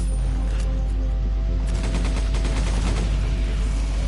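Gunfire from shooting enemies in Resident Evil 5, rapid bursts of shots rattling continuously under game ambience, loud and dense with no pauses and no talking.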